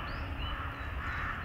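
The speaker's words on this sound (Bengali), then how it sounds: "আর তার সঙ্গে বিভিন্ন পাখিদের ডাক," Crows caw in a park in Manali, harsh calls rising over a dense wash of outdoor ambience and faint chirping from other birds.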